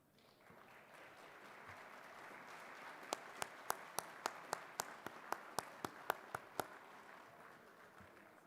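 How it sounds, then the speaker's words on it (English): Applause rises from the audience at an awards banquet, steady clapping building under a room hum, with a run of sharp, loud, close individual claps standing out in the middle. "to stand for a round of applause"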